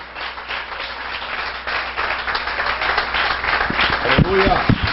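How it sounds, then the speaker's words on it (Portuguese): A church congregation applauding, with a dense, steady wash of many hands clapping that swells slightly toward the end, while a voice speaks over it. "Você pode aplaudir a palavra do Senhor?"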